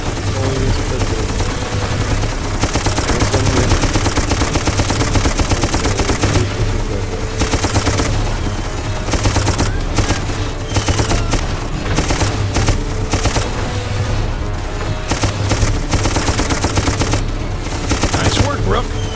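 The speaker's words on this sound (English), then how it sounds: "Get your ass on that gun and provide cover fire." Sustained machine gun cover fire in a combat video game, a dense, loud and continuous rattle of bursts layered with battle noise for the whole stretch, with no pauses.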